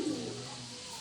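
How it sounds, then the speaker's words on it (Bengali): Pet pigeons coo from close by in one brief, soft, low call over faint background noise. "এই হচ্ছে আমার শখের কবুতর।"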